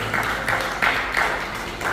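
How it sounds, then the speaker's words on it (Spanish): A church congregation claps together in steady, dense applause that swells slightly in waves, filling the room with a continuous wash of hand claps. "A su nombre, den un fuerte aplauso al Señor."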